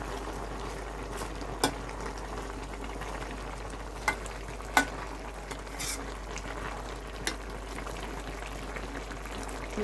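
Salt is stirred into a greens curry simmering in a pan. A soft bubbling simmer runs throughout, broken by a few sharp, scattered scrapes and knocks of the utensil, with no voices.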